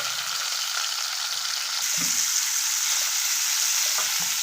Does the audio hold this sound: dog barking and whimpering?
no